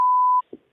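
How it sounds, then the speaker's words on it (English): A single steady censor bleep, loud and pure, lasts about 0.4 seconds as it covers a name, then gives way to a brief muffled snippet of voice. "we'll try to beep it out"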